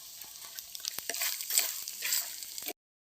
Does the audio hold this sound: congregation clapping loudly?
no